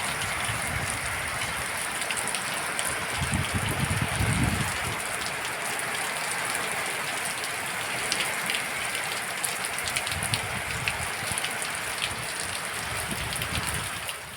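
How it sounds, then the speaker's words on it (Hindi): Heavy rain pours down steadily for the whole stretch, a dense continuous hiss and patter on surfaces, loud and unbroken, with no voices. "तो देखा आप लोगों ने कितनी तेज़ बारिश हुई है।"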